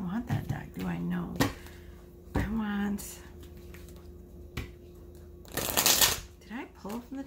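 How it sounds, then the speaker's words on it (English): A tarot card deck is shuffled in several bursts of riffling and flicking close by, interspersed with casual talk and a bright sharp rustle near the end. "Why am I shuffling this deck?"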